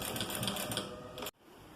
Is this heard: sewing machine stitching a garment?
yes